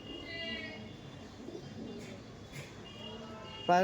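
Giribaz pigeons from Uttar Pradesh coo softly and steadily at close range, a low rolling murmur that continues throughout, with one louder call breaking in at the very end.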